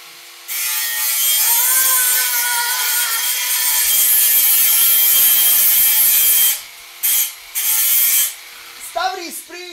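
An angle grinder in an animated series whines steadily for about six seconds, then cuts out and restarts in short bursts, loud and close, with a voice heard near the end.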